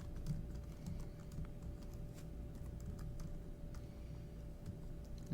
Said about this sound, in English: And then I can type in the third row.